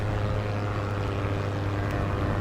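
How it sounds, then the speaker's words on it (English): Steady droning hum of a propeller plane engine in a glider simulator video game, constant and moderately loud with no voices. "Oh, there's the aircraft that I can hear the engine of."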